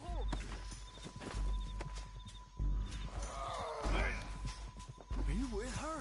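Horse hoofbeats in a video game, a rhythmic low clopping under almost continuous character dialogue, with some bird-like chirps in the background.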